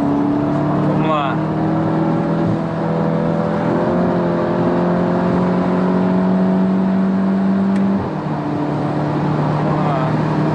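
A Volkswagen GTI with a JB4 tune accelerating hard, a loud sustained engine drone climbing in pitch through the gears, heard from inside the car with a shift change partway through.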